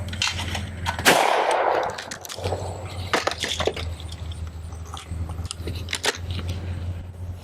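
Sharp gunshots at thrown clay targets, one loud close blast early on followed by several more spaced shots over a steady low hum, with no talking.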